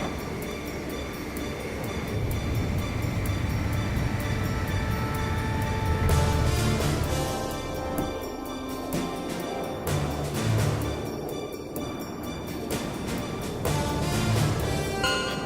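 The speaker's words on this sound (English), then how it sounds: "The transport plane is ready for an emergency landing." A transport plane makes an emergency landing in the video game Ace Combat 5, with a continuous loud rumbling roar throughout and a cluster of clattering, rattling transients partway through.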